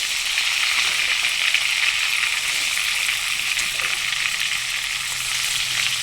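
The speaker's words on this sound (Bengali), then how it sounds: "দেখো কি সুন্দর লাল করে ভেজে নিয়েছি।" Prawns fry in hot oil for a prawn malai curry, producing an even, continuous close sizzle at a steady level with faint bubbling and no voices.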